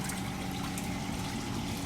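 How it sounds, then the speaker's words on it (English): Water pouring steadily into the tank of a hydraulic bench in a lab setting, a constant dense rushing flow with no breaks or voices. "Now water has started to be collected here."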